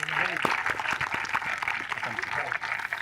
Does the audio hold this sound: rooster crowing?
no